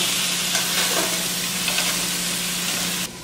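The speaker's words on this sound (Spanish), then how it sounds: "pondremos a freír nuestras piezas" Loud, steady sizzling of chicken pieces frying in a hot pan, a dense crackling hiss throughout with small pops, no voices.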